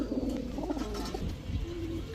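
Pakistani Teddy, Saharanpuri, racer and high-flyer pigeons in a pigeon coop coo in soft, repeated low calls close by, a steady murmur without speech.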